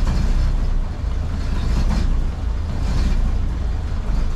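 A 1932 Ford Model B engine idles in cold weather, a low, steady rumble close by with slight dips in level and no talking over it.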